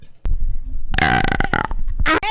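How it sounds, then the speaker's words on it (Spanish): A young Latina Twitch streamer lets out a loud, long, rumbling burp right after a short click, held for over a second, then a brief break and a final raspy burst, very close and dominant. "Y voy a eructarles."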